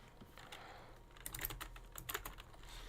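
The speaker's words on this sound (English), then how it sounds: "Yes, finally some typing." Typing on a computer keyboard while coding, a quick run of soft key clicks close to the microphone, with the taps bunching into brief faster bursts in a quiet room.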